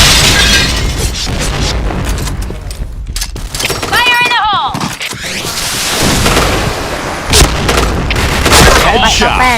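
Grenade explosions in a samurai katana shooter game, booming blasts and gunfire-like bursts in a dense, loud mix with a player talking over them.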